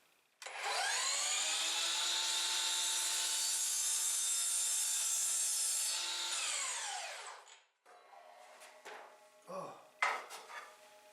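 A power saw whines steadily through oak trim for several seconds, then spins down and stops, followed by a few light clattering knocks of handled wood.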